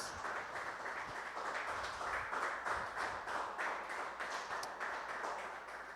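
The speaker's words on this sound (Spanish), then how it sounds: "Damos un aplauso a Dios esta noche." A church congregation claps for God at the close of an evening service, a steady, dense wash of many hands that runs throughout at an even level with no talking over it.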